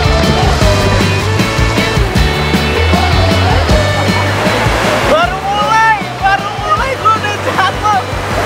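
A waterfall at a village swimming spot in Taraju, Tasikmalaya, produces a loud, steady rushing roar that continues under a person speaking throughout.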